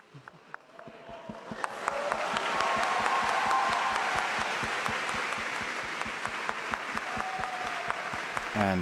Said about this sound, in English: And a round of applause as the Holy Father